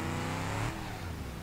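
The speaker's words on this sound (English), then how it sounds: "This thing does wheelies in 5th gear." A vehicle engine revs hard while pulling a wheelie in fifth gear in BeamNG.drive, a brief loud buzzing drone that drops in pitch partway through, with no talking.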